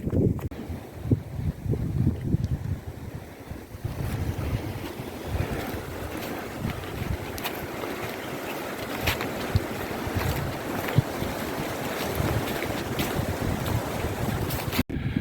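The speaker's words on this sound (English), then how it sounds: "it's quite windy" Strong wind buffets the microphone on the North Norfolk coast at Salthouse, with steady low rumble and gusty thumps throughout, over a distant wash of water.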